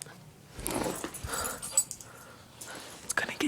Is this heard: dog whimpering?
yes